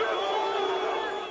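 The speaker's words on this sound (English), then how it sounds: "Crowds of his supporters did just that, confronting the tanks and troops and shouting their defiance." Supporters crowd the street, shouting their defiance at tanks and troops during an attempted coup, a dense steady roar of many voices with no single voice standing out.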